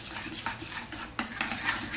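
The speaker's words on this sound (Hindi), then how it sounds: "अब इसको हम मिक्स कर लेंगे।" Burger sauce with black pepper being stirred in a bowl, a close, steady scraping and swishing with small clinks of utensil against the dish, repeated several times without talk.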